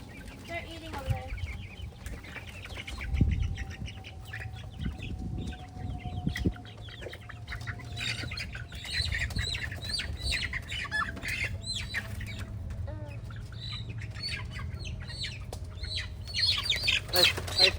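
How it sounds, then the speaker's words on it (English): A group of five chickens pecks and feeds nearby outdoors, giving repeated squawks and clucks scattered through the clip over a steady background hum, with a faint rustle and a few louder calls toward the end. "No, those 5 chickens. They're eating over there."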